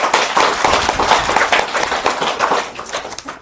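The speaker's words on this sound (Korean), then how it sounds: "자, 박수 한번 보내드리죠." An audience at a Buddhist temple anniversary dharma service applauds in a dense burst of many hands clapping, steady and fairly loud, tapering slightly near the end.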